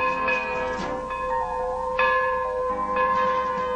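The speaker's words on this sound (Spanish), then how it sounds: "Es la campana de la torre dando la hora." Church tower bell striking the hour, ringing several resonant strokes that overlap and sustain with long ringing tones, loud and alone.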